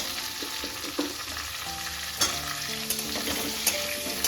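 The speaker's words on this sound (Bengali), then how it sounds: "আলুটা দিয়ে আমি মিনিট 2-3 একটু ভালো করে একটু ভেজে নেব।" Potatoes fry in hot oil tempered with black cumin for a bottle gourd and prawn curry, giving a loud, continuous sizzle with scattered stirring clicks and scrapes.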